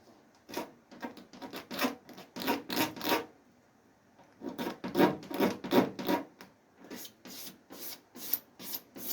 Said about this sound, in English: It's making that nice scraping noise, like that.